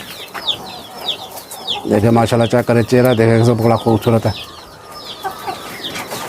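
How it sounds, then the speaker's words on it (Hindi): An Aseel rooster clucks and calls among farmyard birds, with small birds chirping through the background while someone talks over the middle stretch. "तो ये आ गई हमारा स्लेटा मुर्गा"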